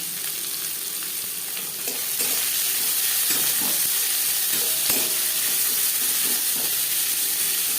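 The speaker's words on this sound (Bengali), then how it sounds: "পাঁচফোড়ন তেজপাতা ভেজে নেওয়ার পর দিয়ে দেবো পেঁয়াজ কুচি।" Chopped onion hits hot oil with panch phoron and bay leaves, a steady loud sizzle of frying with occasional stirring scrapes, close up and without speech.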